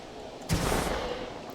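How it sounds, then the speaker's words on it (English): Fireworks in the Planet Coaster 2 park-building game: a single loud, sudden burst and broad crackling rumble that swells sharply and then slowly fades over a steady background hum. "A few fireworks."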